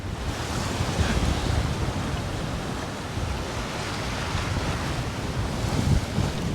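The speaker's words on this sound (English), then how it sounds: "So the wind has picked up a bit." Steady wind gusts roar across the microphone aboard a sailboat crossing the Kattegat from Sweden, mixed with the wash of waves against the hull, loud and continuous with no voices.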